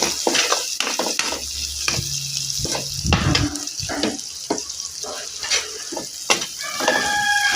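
Garlic and onion sautéing in a pan with a steady close sizzle, broken by frequent clacks and scrapes of a stirring utensil and a brief low rumble in the middle, with faint murmurs in the background.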